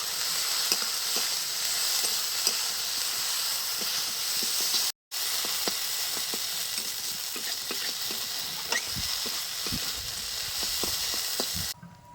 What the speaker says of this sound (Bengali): এবারে পেঁয়াজ রসুন একসাথে ভালো করে বাইজে নেবো